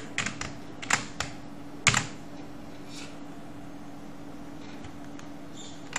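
Code being typed on a computer keyboard, with scattered bursts of close, crisp key clicks and a few heavier keystrokes separated by quiet pauses over a low background hum.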